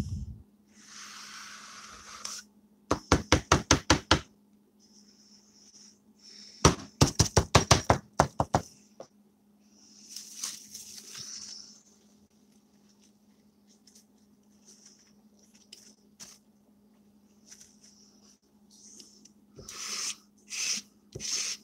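A tool scrapes excess paint shavings off paper in quick bursts of rapid rhythmic strokes, with soft rubbing between them and a steady low hum underneath.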